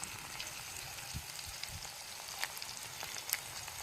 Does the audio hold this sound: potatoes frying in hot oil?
yes